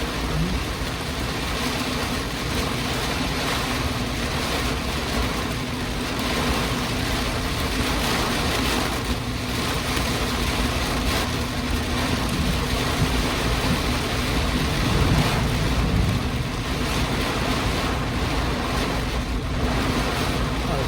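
Thunderstorm rain in Cape Coral, Florida, a steady, close, hissing downpour with no distinct thunder claps, continuous and even for twenty seconds.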